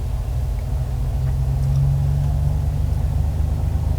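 Aircraft engine in Microsoft Flight Simulator 2020 powering up on the ground, a steady loud low drone and rumble that builds slightly and holds throughout.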